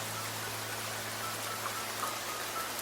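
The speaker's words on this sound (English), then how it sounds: "This is rain." Steady hiss of rain falling in a visual novel video game, an even dense wash of drops with no distinct hits and no talking.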